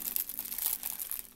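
A small plastic packaging bag tears and crinkles during the unboxing of parcels from an online shop, giving a quick run of close, crackly rustles with no talking.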